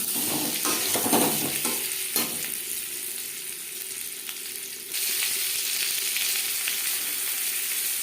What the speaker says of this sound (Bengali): সেদ্ধ করা আলু আমি হালকা করে ভেজে নেব